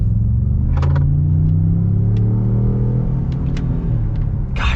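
A 2021 full-size pickup truck, one of a Chevy 1500 RST, Ford F-150 Lariat or Ram 1500 Laramie, accelerates hard with a loud steady engine drone rising in pitch, heard from inside the cab.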